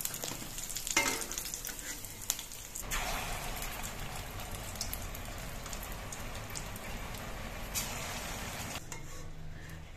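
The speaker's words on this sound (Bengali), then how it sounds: "এভাবে একে একে আমি সবগুলো বড়াই ভেজে নিচ্ছি।" Pumpkin fritters deep-frying in plenty of oil give off a steady, dense crackling sizzle like light rain, holding close and even for the whole stretch, with a few brief clinks early on and no talking.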